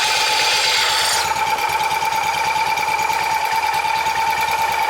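A Wheel Horse garden tractor built as a mud mower runs with its clutch engaged, giving a steady rhythmic engine chug beneath a constant whine, close by and without speech.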